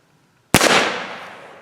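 One sharp, loud report from a CVA black powder revolver bursts out of near silence, then trails off in a long fading rumble.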